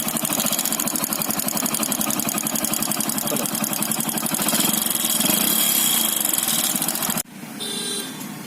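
Motorcycle engine with a loose piston running close by, a loud, fast, even clatter that cuts off near the end and drops to a quieter hum.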